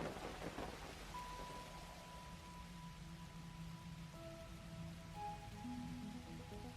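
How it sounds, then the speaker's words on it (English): Rain falls steadily in the planet-colonizing game The Universim, a constant soft hiss of drops with soft sustained musical tones drifting underneath; no voices. "It is raining."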